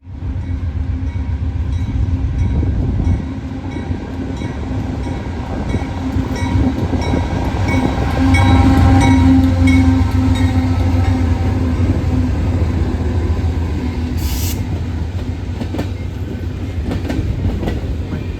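A northbound CSX freight train, A491, rolls past led by two CSX locomotives, one a standard-cab Dash-8, its loud steady engine rumble and rail noise building to a peak mid-pass and continuing throughout, with no talking.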